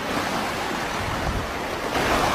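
Ocean surf rolls onto the shore of a sea island, a steady broad wash of waves with wind buffeting the microphone, loud and continuous throughout with no talking.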